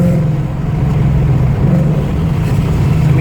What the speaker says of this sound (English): When you go wide open throttle and let off, it does sound really neat